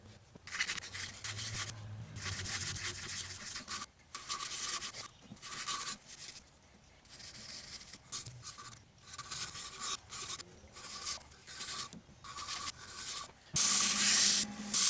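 A turned wooden bird feeder of unknown wood is sanded with abrasive paste, giving continuous close rubbing and rasping strokes in uneven bursts with brief pauses, ending in a harsher, brighter scrub.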